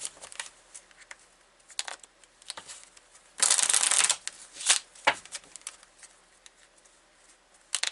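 Tarot cards being shuffled by hand, giving a dense, loud riffling burst of about a second in the middle, framed by softer card taps and handling sounds in a quiet room.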